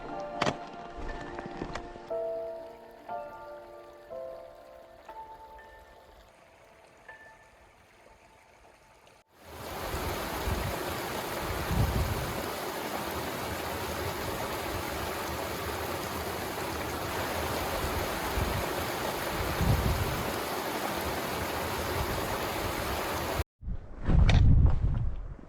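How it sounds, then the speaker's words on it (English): Small mountain creek on a high-elevation hike trail, its steady broadband rush of flowing water filling most of the clip after a quieter opening, with a few brief louder splashes and a sharp break near the end. "Beautiful little creek."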